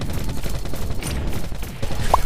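Turret gunfire in The Machines Arena, a dense rattling fusillade of rapid shots that runs continuously and loudly for a couple of seconds.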